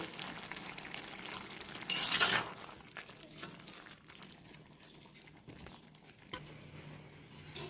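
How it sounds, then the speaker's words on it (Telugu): Carrot halwa stirred in a pan over a low gas flame, a quiet scraping and soft sizzle with one brief louder burst of stirring near the start, then gentle intermittent scrapes. "గ్యాస్ అనేది స్లిమ్లో పెట్టుకొని కలుపుకుంటూ ఉండాలి"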